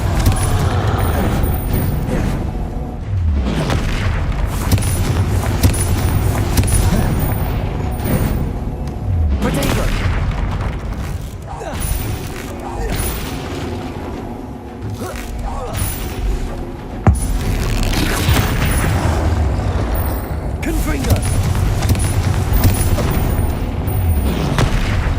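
Repeated booming blasts of the Confringo explosion spell in Hogwarts Legacy, several heavy bursts spaced across a long stretch of constant combat noise, with a player talking throughout.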